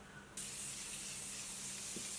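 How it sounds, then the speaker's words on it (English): A Morphe Continuous Setting Mist bottle releases one long, even spray: a soft hiss starts abruptly after a short quiet moment and holds steadily for about two seconds, close and fairly faint. "I'm going to take the Morphe Continuous Set Mist"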